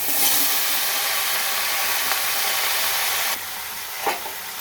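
Taro leaves hitting hot oil seasoned with nigella seeds and green chilies give a steady, close sizzle and hiss that drops in level near the end, with a brief stir-like bump and no voices.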